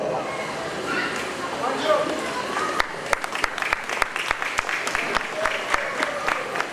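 An audience at a Shiv Puran religious discourse breaks into applause, scattered claps building into steady clapping after a stretch of someone speaking.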